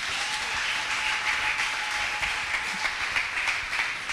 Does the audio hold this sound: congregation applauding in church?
yes